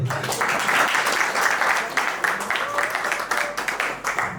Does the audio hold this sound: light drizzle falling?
no